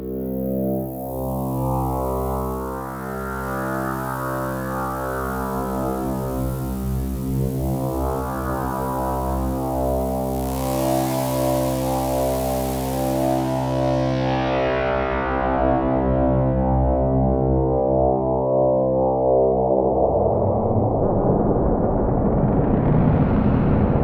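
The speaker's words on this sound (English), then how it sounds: "Here's the Cella Twin Peaks filter. I'm also running Bidu Duke at audio rates." A 4ms Meta Module modular synth runs a Twin Peaks resonant filter patch with audio-rate modulation, giving a loud, sustained, buzzing drone with shifting, sweeping overtones and a brighter tail toward the end.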